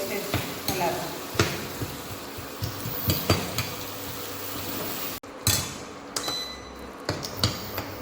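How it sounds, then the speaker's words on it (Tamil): Onion and tomato sauté in a pan with a soft, steady sizzle, punctuated by sharp irregular knocks and scrapes of a spoon against the pan. "இப்போ நம்ம வெங்காயம் தக்காளி நல்லா வதக்கிக்கலாம்."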